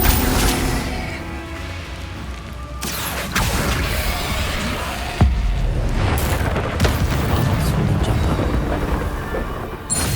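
Explosions from the Confringo fire spell in the video game Hogwarts Legacy, a run of loud, rumbling booms with sharp blasts near 3 and 5 seconds over a dense, roaring background.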